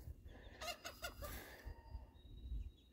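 Laying hens let out of their pen into a backyard, giving a short burst of clucking and squawking calls at close range that settles into quieter background noise.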